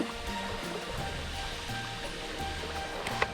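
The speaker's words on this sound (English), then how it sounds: "Look at that waterfall up there." Waterfall along the Whanganui River in New Zealand, a steady broadband rush of falling water, moderately distant and continuous throughout.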